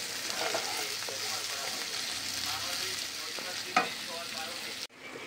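Flat beans fry with turmeric in a pan, giving a steady, close crackling sizzle with occasional spoon taps and stirring scrapes, which cuts off abruptly near the end.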